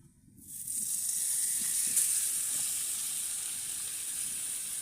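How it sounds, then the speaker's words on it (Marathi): Marinated tilapia hits a hot oiled griddle pan, bursting into a loud, steady hissing sizzle that holds on without talk. "मस्त पैकी तेल सगळ्या तव्यावर पांगून घेऊयात आणि चिलापे एक एक करून सोडून घेऊयात."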